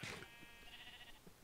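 A sheep in Minecraft gives a short, faint bleat, a single quiet wavering cry heard over a low background hiss.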